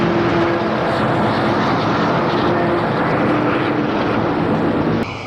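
Diesel pusher locomotive shoving hard on the rear of an anthracite freight train, a loud, steady engine roar that holds for about five seconds and then drops abruptly.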